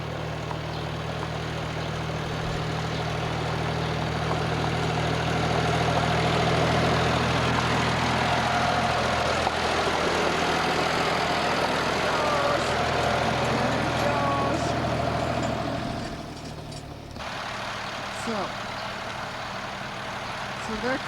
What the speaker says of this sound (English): His first time to drive the tractor.